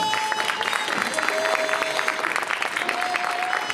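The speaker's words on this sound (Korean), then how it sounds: "여러분 큰 박수 부탁드리겠습니다." Wedding guests applaud at a traditional Korean ceremony, a steady crowd of clapping hands that runs throughout, with faint tonal sounds and some background voices mixed in.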